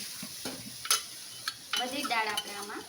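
Boiled dal is poured into a pan of cooked spices and stirred, giving a soft sizzle, wet scraping and a few spoon clinks against the pan, close and fairly quiet.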